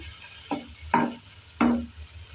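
A large fish fries in a pan, with a steady background sizzle broken by three sharp hissing bursts as pieces are stirred or turned, close and fairly loud with no talking.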